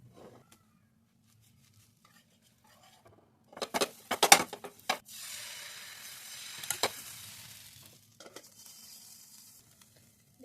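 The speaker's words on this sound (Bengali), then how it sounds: "দেখুন এইভাবে পরপর ভেজে নেব" Rice flour pitha frying in a pan with mustard oil, a bright sizzle swelling up around a few sharp clatters and stirring sounds, then fading back to near silence.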